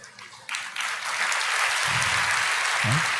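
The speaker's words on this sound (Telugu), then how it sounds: "మీరెందుకు చప్పట్లు కొట్టారు?" Applause from an audience at a Telugu Christian sermon starts abruptly and swells into sustained clapping that holds steady and fairly loud to the end.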